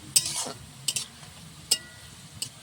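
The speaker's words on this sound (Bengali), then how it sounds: "পেঁয়াজটা তেলে ভাজতে দিয়েছিলাম, লাল হয়ে এসছে।" Sliced onions frying in oil in a home kitchen for chicken biryani, with a low steady sizzle and a few sharp scrapes of a spoon stirring the pan at irregular intervals.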